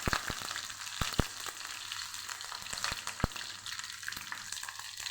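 Mustard seeds and green chillies sizzling in hot oil for a tempering over instant semolina dhokla, with a steady frying hiss broken by sharp seed pops and crackles, close and fairly loud, no talk.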